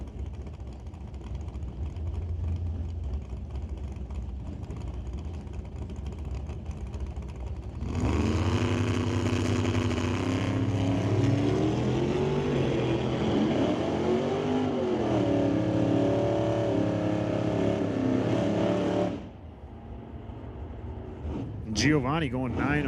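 Giovanni's little S10 pickup makes a drag racing run at an NHRA Northwest National Open Series test and tune, its engine roaring loud and rising through the gears for about eleven seconds before cutting off, with an announcer talking over the track noise.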